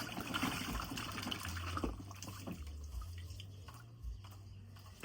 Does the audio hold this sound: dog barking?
no